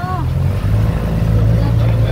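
Tour boat motoring along the Kerala backwaters near a bridge at the Tamil Nadu border, a steady low engine drone running throughout with faint background voices.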